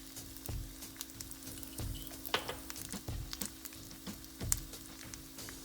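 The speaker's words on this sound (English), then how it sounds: "Put the turmeric in the oil, another teaspoon." Turmeric sizzling in hot oil for an Indian-style chickpea salad, a quiet continuous frying hiss broken by soft clicks and periodic low stirring thumps, with no voices.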